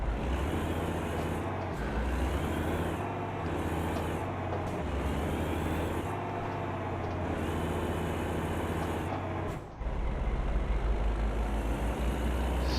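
American Truck Simulator semi truck in the video game, a steady low engine drone with whining, shifting tones and a brief air-brake hiss near the end, continuous and without speech.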